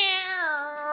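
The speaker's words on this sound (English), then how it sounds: "I just dropped by to leave our cat" A house cat gives a single clear meow lasting about a second, close and fairly loud, with no talk over it.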